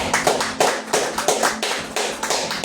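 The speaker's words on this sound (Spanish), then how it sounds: "Dale un fuerte aplauso al Señor." A congregation at a church service claps together in a loud, fairly rhythmic burst of applause, the hits close and distinct, with no voices over it.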